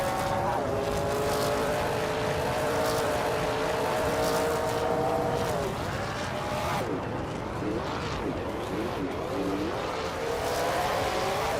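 Racing engines of historic cars, including a 1982 Pontiac Grand Prix in a NASCAR 1980 class, drone continuously at Silverstone in a racing video game, pitch shifting as they rev, with a commentator's voice over the top.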